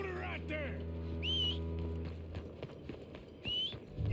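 In Red Dead Redemption 2, a sharp rising whistle calls a horse, and clip-clop hooves approach and move close, with a horse snort and a second whistle near the end, under a continuous low musical drone.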